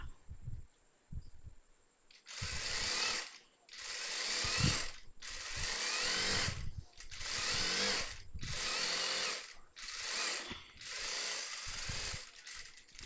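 A sewing machine stitches a churidar in roughly seven steady, close mechanical bursts, each a few seconds long and separated by brief pauses, with no voice over them.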